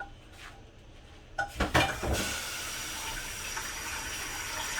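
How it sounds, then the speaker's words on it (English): A flan pan set into warm water: a metallic clink and knock of the pan, then a steady rushing, bubbling wash of water that continues to the end. "Then I'm gonna put this in warm water"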